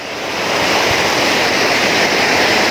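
A waterfall at Pyin Oo Lwin gives a loud, steady, broadband rush of falling water that swells in over the first half second and then holds constant, with no voices present.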